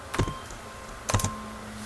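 A few quick clicks on a computer keyboard while a command is entered, in two short, close clusters separated by a pause.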